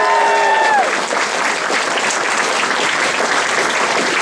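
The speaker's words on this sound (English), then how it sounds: "a big round of applause for the fantastic staff here at the hotel." Dense, sustained applause from a large convention audience at an anime convention closing ceremony in a hotel, filling the whole stretch at steady loudness after a brief tone fades in the opening second.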